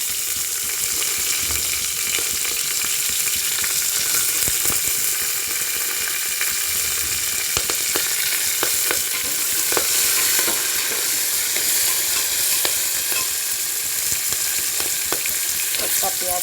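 Onion flowers (the flowering stalks of onion) frying in a pan, a steady close sizzle running throughout with occasional scrapes and clicks of stirring.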